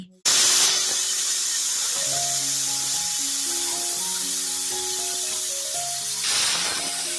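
Steady, loud hiss of a pressure cooker on a medium gas flame while boiling masoor dal lentils, continuous throughout with faint tonal whistling beneath and a brief swell near the end.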